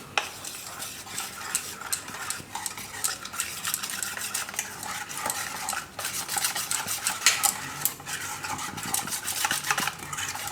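Steady scraping and clinking of a spoon stirring thick flour batter for pudla made from leftover rotis in a bowl, continuous and close, with no voices.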